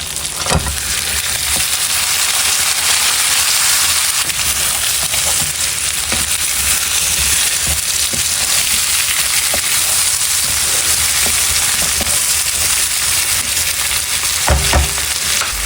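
Pork ribs fry loudly in a pan, a dense, steady sizzle and crackle throughout with occasional louder pops and no talking.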